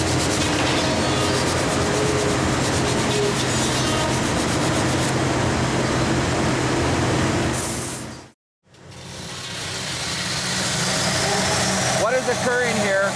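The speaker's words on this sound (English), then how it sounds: "it'll be returned to the sander for the final grind" Sander grinding an acoustic guitar body in the Gibson factory, a loud steady machine roar with broadband rasp that cuts out abruptly for a moment near the end, then resumes, with a voice talking over it.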